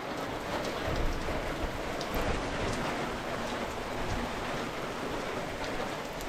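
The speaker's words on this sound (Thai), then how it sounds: "ฝนตกละ" Steady rain falls evenly and fairly close, a continuous soft hiss of drops with no voices.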